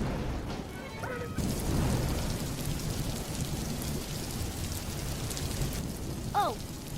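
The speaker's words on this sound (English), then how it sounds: "The first rumble of thunder didn't startle her." Steady rain patters on surfaces while a deep thunder rumble swells and fades underneath, with a brief voice or two breaking in faintly near the start and end.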